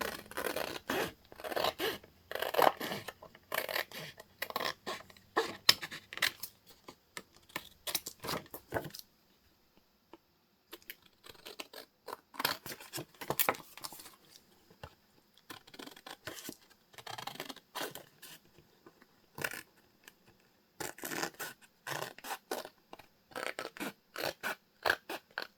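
Scissors cut around a piece of craft paper in short, crisp snips and rustles, quiet and close, pausing briefly before the clipping resumes in bursts.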